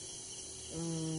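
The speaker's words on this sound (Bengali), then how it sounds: "বেশ ঝিঝি পোকার ডাক এদিক থেকে শোনা যাচ্ছে" Steady high-pitched chirring of crickets fills the night air in a forest continuously, with a low tonal hum joining partway through.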